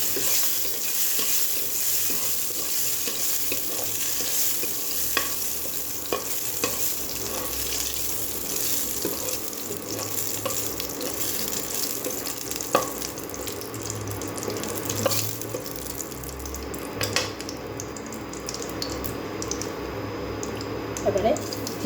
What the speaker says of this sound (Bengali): শুকনো লঙ্কাটা একটু ভাজা ভাজা হোক